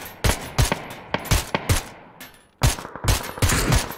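Gunfire rings out in PUBG in several sharp bursts of shots, some quick strings and some single cracks, loud and close, with a short lull midway before rapid firing resumes.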